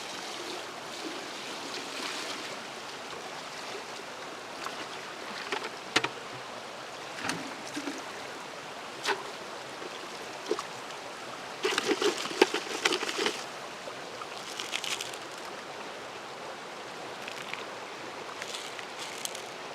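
Gravel is washed in creek water while panning for gold on Las Huertas Creek, giving a steady wet sloshing and trickling with occasional louder splashes and rattling stones.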